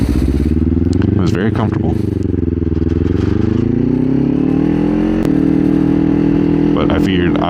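2024 Kawasaki Ninja 500 motorcycle being ridden, a close, loud engine drone that rises and falls in pitch as the rider shifts and accelerates, with wind buffeting and someone talking over the engine.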